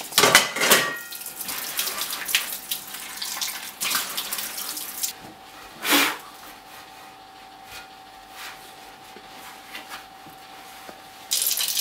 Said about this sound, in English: cleaning parts to do the washing up as well, just to make sure that everyone is happy in the house